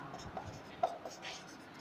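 Chalk or marker writing on a board during a class lesson, soft scratchy strokes with a couple of faint taps, quiet and close in a still room.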